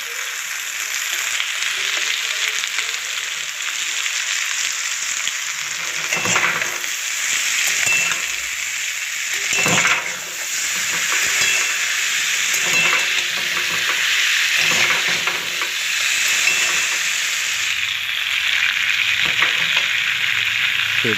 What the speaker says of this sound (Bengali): এবার ভেজে রাখা ফুলকপিগুলো আমি এর মধ্যে দিয়ে দিলাম, আর একটু নেড়ে চেড়ে নেব।